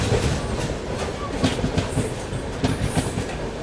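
A New Delhi–Barauni clone special train passes close by, overtaking on the adjacent track with a steady rumble and repeated clickety-clack of wheels over rail joints, loud and continuous throughout.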